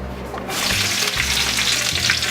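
Fajita vegetables hitting smoking hot oil in a pan, a loud, steady, close sizzle with a bright hiss that swells as they land and keeps crackling throughout.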